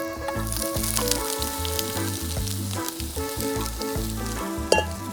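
Onions sizzle in olive oil in a pan, a loud, close, continuous frying crackle with occasional stirring scrapes and a brief sharp clatter near the end, no voices.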